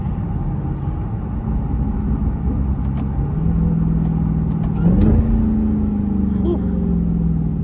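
Supercharged Dodge Challenger Hellcat Redeye with a JLT intake accelerating in traffic, heard from inside the car: a rising whine climbs over steady engine rumble about halfway through and holds to the end.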